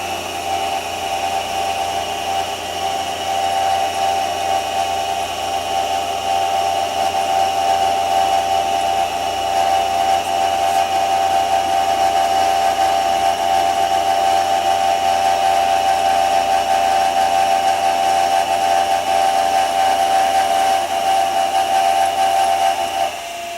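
A machine runs steadily on power feed while cutting stock for low-profile down force clamps, giving a continuous loud hum and whine with a sustained tone and no pauses.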